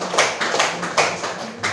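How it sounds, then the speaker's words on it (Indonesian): Students in a classroom clap together in a short burst of applause during a lesson, a steady patter of many hands at fairly close range that lasts under two seconds. "bagus, tepuk tangan dulu"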